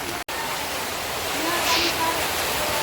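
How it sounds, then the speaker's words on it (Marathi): Steady, dense hiss of heavy rain pouring down, loud and continuous throughout, with a brief dropout near the start. "आज पण जबरदस्त पाणी पडत आहे"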